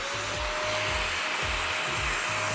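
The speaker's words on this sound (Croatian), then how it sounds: "on ima ovo gdje isprica voda i odmah usisava za sobom" A cheap AliExpress wet vacuum cleaner fitted with a small brush runs with a steady, loud whining drone, and a faint rhythmic low pulsing sounds underneath as it scrubs a small surface.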